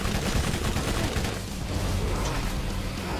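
Dense, continuous gunfire from the video game Borderlands, a loud, unbroken barrage of rapid shots and low booms filling the whole stretch with no pause.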